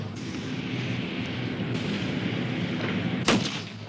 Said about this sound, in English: he is to fire normally 2 rounds per target he feels should be fired upon